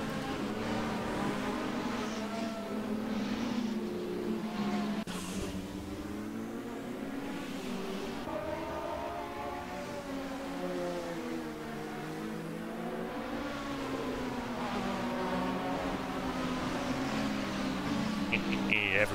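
Racing car engines roar and rev continuously in the DRM Revival racing video game, with pitch rising and falling through gear changes as the cars run, loud and steady throughout with no talking.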